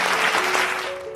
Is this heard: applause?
yes